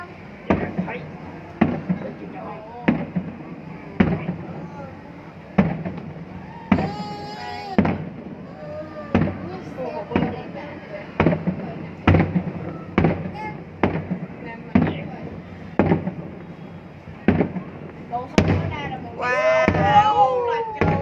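Fireworks burst over Ninh Kiều, Cần Thơ at a New Year's Eve 2024 celebration, sharp booms repeating roughly every second or two for the whole stretch, some with crackling tails, while a crowd cheers and people talk.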